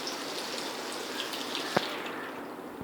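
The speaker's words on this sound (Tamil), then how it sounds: "இப்போ நம்ம அந்த புளி தண்ணியை இப்போ இதில் கொஞ்சம் ஊற்ற போகிறோம்" Tamarind water trickles and splashes into a pan while making a fish masala kulambu, a soft continuous liquid pour with one brief clink partway through, fairly faint and without speech.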